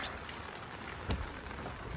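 Rain falls steadily in a backyard as a soft, even hiss of drops, faint and continuous, with one brief louder patter midway.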